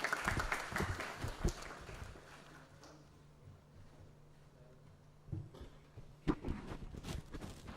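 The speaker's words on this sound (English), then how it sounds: "A big round of applause once again for Mr. V.V. Ranganathan." An audience at a shared services excellence awards ceremony applauds an honoree: a loud burst of clapping at first, fading into a quiet room, then a few scattered claps and sounds near the end.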